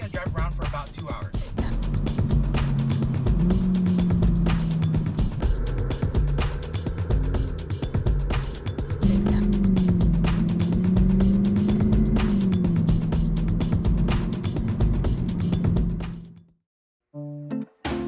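A car drives steadily with cookies baking in its engine bay, giving a continuous loud road and engine drone with shifting engine tone, before the sound drops away near the end.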